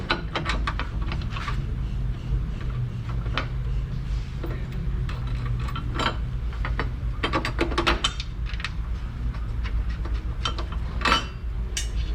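A hand ratchet tightens bolts on a Kia Sorento during rack and pinion replacement, rapid clicking bursts repeating in irregular runs with brief pauses, close and clear over a low background hum.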